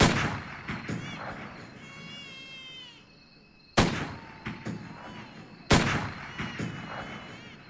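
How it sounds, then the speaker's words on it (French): Sharp, echoing gunshots crack out at dawn over a rural village in Laos, marking deaths in the night; bird chirps and calls fill the gaps between the loud, widely spaced blasts. "Mais à l'aube, 3 coups de feu retentissent."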